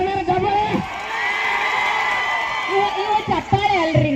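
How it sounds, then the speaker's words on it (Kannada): An audience at a live comedy show in Gangavati shouts, whoops and cheers loudly instead of clapping, a dense crowd roar sustained throughout with sharper individual yells near the start and end. "ಚಪ್ಪಾಳೆ ಅಲ್ರಿ, ನೀವು ಚೀರಾಕತ್ತೀರಿ"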